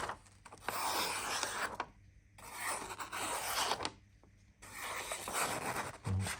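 A Scandinavian-grind SRM 401L knife slicing through paper gives three long, close raspy cuts of a few seconds each, separated by short pauses, with no talking.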